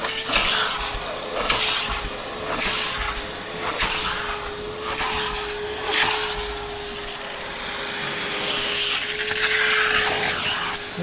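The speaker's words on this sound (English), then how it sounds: "They're going to wet vacuum, get the dirt off, see what's under there." A wet vacuum cleans the back seats of a Suzuki Wagon R+ with a steady, close motor hum and a hiss of suction. Repeated strokes across the upholstery scrape and rustle the fabric.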